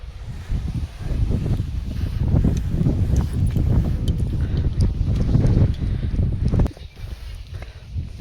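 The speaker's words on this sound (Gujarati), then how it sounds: "અને જો પવનની ગતિમાં પણ વધારો થાય છે આ જગ્યાએ." Wind blows in strong, buffeting gusts across the microphone on a hillside trek, with scattered rustles and footstep-like knocks beneath it and no talk.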